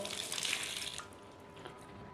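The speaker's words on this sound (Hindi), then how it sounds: "तो ये इस तरह आप पाँव धो लें" Water pours and splashes over feet during wudu, the ritual washing before prayer. A close, soft gush lasts about a second, then fades to a faint trickle.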